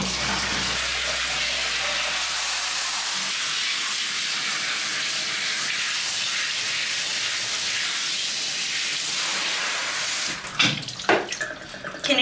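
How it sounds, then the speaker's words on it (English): Warm water pours steadily from a running tap, a loud continuous hiss and splash lasting about ten seconds before it stops, followed by a few brief knocks and splashes. "Let's get you some warm water."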